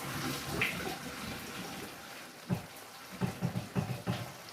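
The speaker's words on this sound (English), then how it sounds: "I won't insult you by telling you how to drain pasta. I use my little sieve thing." Pasta water drained through a small sieve, a steady watery rush followed by a series of clanking, splashing knocks near the end, close and fairly loud.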